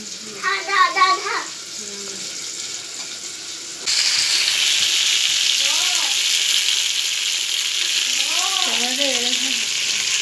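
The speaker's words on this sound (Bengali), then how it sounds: "তাই গরম মশলা আর লঙ্কা ফোড়ন দেওয়া হয়েছে" Whole garam masala and chilies are dropped into hot oil, starting a loud, steady sizzle. Voices, including a child's, talk over the frying.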